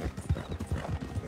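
Horse hooves clip-clop at a steady, even walking rhythm in Red Dead Redemption 2, moderately close and clear, with faint background ambience.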